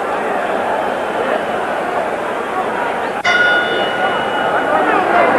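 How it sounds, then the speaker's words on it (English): A single ringing bell strike sounds at a boxing match signalling the start of round two in a welterweight title fight, cutting sharply through loud arena crowd noise and a commentator's voice, then ringing on briefly. "Bell for round two."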